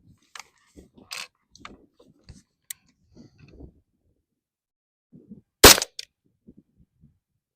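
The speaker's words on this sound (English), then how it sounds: "This will be 5 rounds of the AAC 40 grain FMJ through the Ruger LC Charger." A Ruger LC Charger 5.7 pistol fires AAC 40 grain FMJ rounds, with one loud, sharp report standing out among scattered faint clicks and handling noises.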